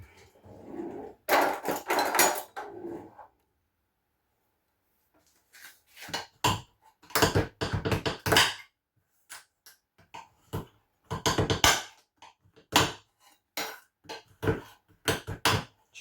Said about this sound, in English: what I'm going to do now is chop up the chocolate